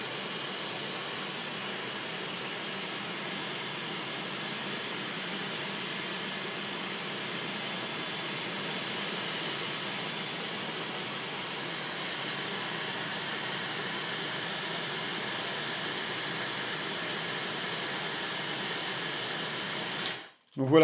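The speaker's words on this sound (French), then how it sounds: "la vitesse de l'air qui sort du sèche-cheveux qui est importante" A Dreame Hair Glory hair dryer blows air in a steady, loud whoosh for about twenty seconds, then cuts off abruptly.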